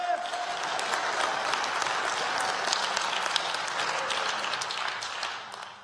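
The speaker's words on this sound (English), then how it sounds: "Come on. Hand clap of praise to God." A congregation keeps up hand clapping as praise during a church service, a sustained, even wash of crowd applause lasting several seconds, with a voice heard faintly beneath it.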